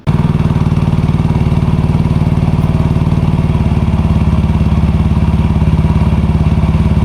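A motorcycle fitted with a stainless steel air filter starts up and settles into a steady, loud idle, its rapid even pulses thumping close by for the whole stretch with no talking.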